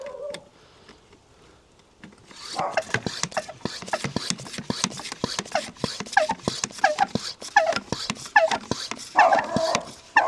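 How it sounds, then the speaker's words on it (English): A neighbour's dog barks repeatedly in a steady run of sharp, mid-loud yelps and barks, following a couple of quieter seconds at the start. "Let's excuse the neighbour's dog from barking."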